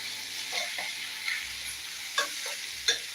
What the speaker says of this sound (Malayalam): ഇനി നമുക്ക് ഒന്ന് ഇളക്കി കൊടുക്കാം